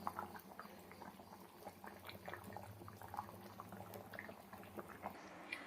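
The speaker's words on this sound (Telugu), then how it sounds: "ఇదైతే మంచిగా ఉడుకుతుంది" Fish curry (pulusu) made with bochcha fish simmers in a pot, giving a soft continuous bubbling and popping, faint and close, with no talk over it.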